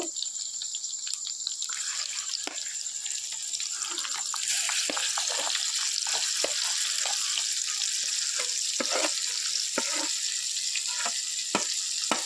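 Chana dal stirred in a pan with ghee, cardamom, cashews and raisins for sweet halwa, a continuous frying hiss punctuated by sharp, irregular scraping strokes, without speech.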